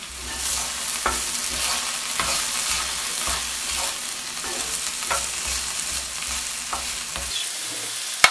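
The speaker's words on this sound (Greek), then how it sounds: "Θα το σοτάρουμε για μισό λεπτό." Ingredients sauté in a pan with a steady sizzle while a utensil scrapes and stirs in a repeated rhythm, close and fairly loud, with no voices.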